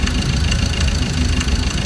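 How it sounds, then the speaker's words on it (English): Ford Ranger T6 2.2 diesel engine idling just after being started, a loud, steady, rough rumble with a slight knocking clatter, close and continuous. "Now the engine is running."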